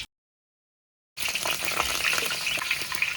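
Cloves, cinnamon and cut green chillies frying in hot oil in a pan, a sudden loud sizzle bursting in after a moment of silence and holding as a dense, crackling hiss.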